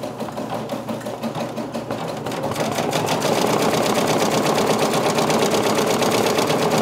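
A Brother embroidery machine stitching steadily, with a fast, even mechanical clatter that grows louder and busier after the first few seconds and then runs on without a break.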